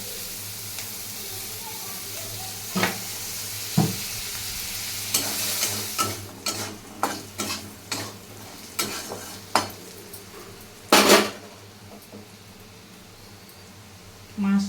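Onions frying in oil in a home kitchen pan, a steady close hiss of sizzling broken by repeated sharp clinks and scrapes of stirring, with one louder clatter near the end.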